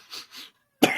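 A woman gives two quick muffled coughs, a brief pause, then one sharper, louder cough close to the microphone.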